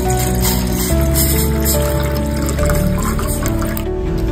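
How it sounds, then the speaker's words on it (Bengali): Water pours steadily into a cooking pot on a home kitchen stove, a continuous loud gushing fill lasting several seconds with a faint hum beneath, no talking. "আমি একটু পানি বসিয়ে দিচ্ছি।"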